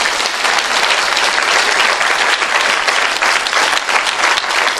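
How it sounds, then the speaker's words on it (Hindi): A church congregation at a Christian ministry gathering breaks into loud, dense applause that holds steady and close throughout, with no pause. "आइए तालियां बजाइए इन लोगों के लिए।"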